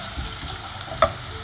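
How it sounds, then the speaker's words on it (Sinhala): Chili powder fries in hot oil for a sea chicken curry, a steady hissing sizzle held close throughout with one brief sharp clink near the end. "හොඳට මේ තෙල් එකේ මේ මිරිස් ටික ටෙම්පරාදු කරගමු."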